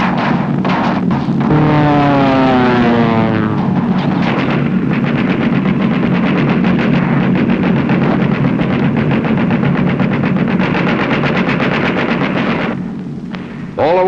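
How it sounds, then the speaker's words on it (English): Droning roar of B-17 bombers flying high in tight formation on a bombing run, a loud continuous multi-engine hum with sweeping pitch shifts, layered with rumbling and crackling bursts throughout. "They come in from the northeast in tight formation, very high, and visible from the ground, and make their bombing run"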